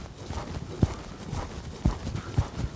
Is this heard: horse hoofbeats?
yes